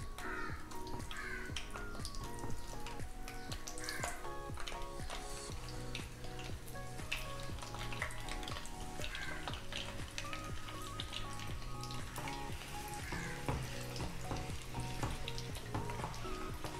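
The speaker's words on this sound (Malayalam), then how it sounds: "ഇനി ഫ്ലെയിം ഒന്ന് കുറച്ച് വെച്ച ശേഷം നമുക്ക് ഈ മുട്ടയിട്ട് ഒന്ന് റോസ്റ്റ് ചെയ്തെടുക്കാം." Eggs roast over a lowered flame in hot oil for a Kerala-style egg masala, giving a steady, faint sizzle and crackle that runs throughout under soft background music.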